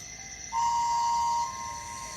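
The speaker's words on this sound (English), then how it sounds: "Henry gave a loud whistle, making everyone jump." A train engine gives a single steady whistle of about a second, clear and moderately loud, over a quiet background hum.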